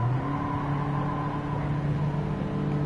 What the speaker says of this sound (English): as soon as you get back on the power, it sounds like it has an engine